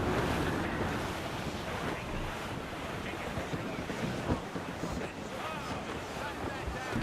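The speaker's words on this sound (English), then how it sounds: "Wind's getting vicious." Strong wind gusting over open sea in the Assassin's Creed Rogue video game, a steady broadband roar with surf washing beneath, continuous and loud throughout.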